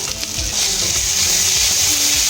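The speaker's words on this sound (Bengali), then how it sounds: "মশলাটা আবার একসঙ্গে কষিয়ে নিচ্ছি ভালো করে।" Spice paste for a bhangan fish curry fries in a pan with Kashmiri chilli powder, a loud close sizzle that swells after a brief scrape and holds steady, with no voices.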